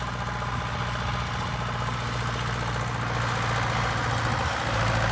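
A tractor engine idling with a Hassia seed drill attached, a continuous loud, low diesel rumble with steady droning throb, close and unbroken.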